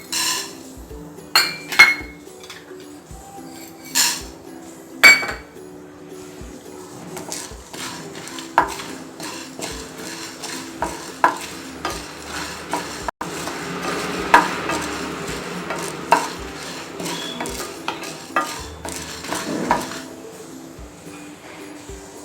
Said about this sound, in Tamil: இப்போ இந்த இன்க்ரீடியன்ட்லாம் போட்டு நம்ம வறுத்து எடுத்துக்கலாம்.